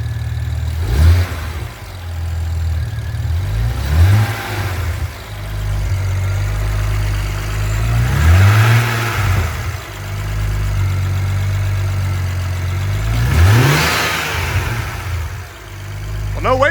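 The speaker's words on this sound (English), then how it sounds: "Just a tiny rev. Let me see what it does." A turbocharged 2008 BMW E90 335i with 200k miles, just fitted with upgraded turbos, idles steadily and gets several short blips of the throttle, each rev rising and falling back to a low idle.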